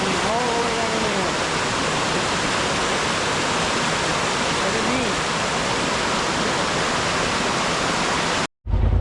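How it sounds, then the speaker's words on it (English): Steady rushing roar of a small waterfall beside a hiking trail near an old mine area, loud and continuous close by, cutting off abruptly at the end. "so that was that little waterfall"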